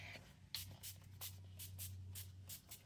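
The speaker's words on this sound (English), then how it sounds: "We are going to go in with some setting spray first." Koki Refresh Hydrating Setting Spray mists out in a rapid series of short, soft hissing pumps, close and fairly quiet over a low background hum.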